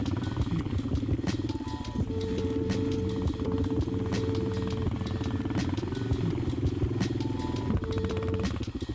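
Suzuki DRZ and Honda XR650 dirt bikes ride a muddy, wet trail at a relaxed pace, their engines droning steadily and close with knobby-tire clatter, alone throughout.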